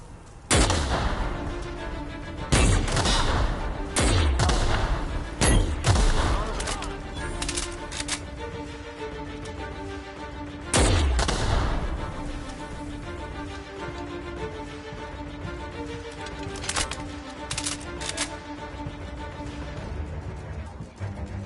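Gunfire in a firefight in The Outer Worlds: Spacer's Choice Edition, with sharp, loud shots in irregular bursts and a heavy blast near the start and middle, under scattered combat voices and a steady background score.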